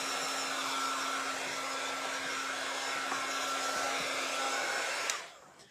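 A hair dryer blows hot air onto wet paint along a seam, a loud, steady close-up whoosh with a constant hum that runs unbroken for about five seconds and then cuts off abruptly.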